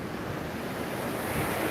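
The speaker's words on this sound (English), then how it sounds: "It's such a windy day." Strong wind gusts across Laguna Beach on the ocean shore, a steady, loud blowing rush mixed with surf and no voices.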